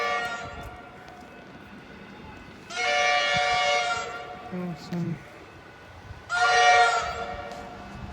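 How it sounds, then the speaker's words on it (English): A Comeng electric train on the Upfield line sounds two loud, sustained horn blasts a few seconds apart over a low rumble of the train. A person briefly speaks. "Classic Comeng horn."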